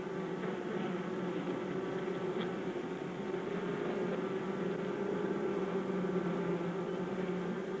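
Dense, steady hum of many worker bees bustling inside a hive, a continuous close buzzing drone with faint flickers of wing noise throughout, no voices.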